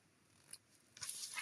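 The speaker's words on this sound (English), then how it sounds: "I'm going to grab my ribbon scissors, and I'm going to just clean up these tails a bit so they're not quite so long" Ribbon scissors trim ribbon tails, a brief faint snip followed by a crisper, brighter cutting rasp, close and quiet with no talk.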